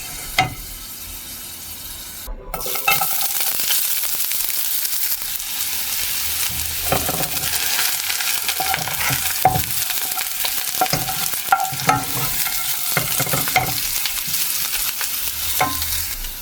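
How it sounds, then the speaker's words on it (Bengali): Garlic frying in oil in a pan while cooking spicy mustard hilsa, right after dried red chillies. A steady close sizzle runs throughout, broken by repeated scraping and clinking stirs, with no talking. "ঠিক এইভাবে করে ভাজা দিয়ে নেব রসুন।"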